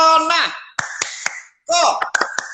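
Clapping taps in the 'tepuk corona' clap chant, several sharp claps in a short rhythmic burst between bursts of close spoken voice.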